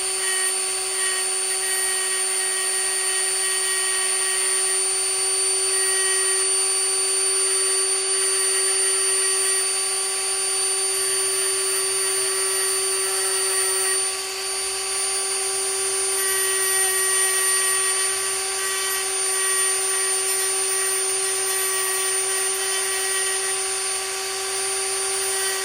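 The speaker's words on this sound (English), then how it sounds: "we're going to take our Dremel and just smooth it off, kind of get rid of the excess." A Dremel rotary tool grinds and smooths excess material off a hearing aid shell during a large hole repair, a steady high-pitched whine running continuously and close for the whole stretch with no talking.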